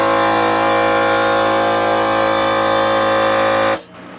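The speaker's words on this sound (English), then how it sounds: "we're going to go under and blow into the power supply right away" Compressed air blasts steadily into a dusty PC power supply, a loud continuous hiss with a faint tonal whine lasting several seconds before cutting off abruptly into a quiet room.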